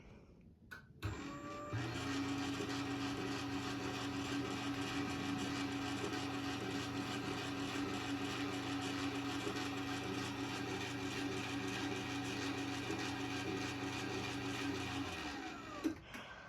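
An uncased Genie IS550/A garage door opener motor runs at a steady drone for about fourteen seconds, with a click at start and stop and a constant mechanical whine throughout.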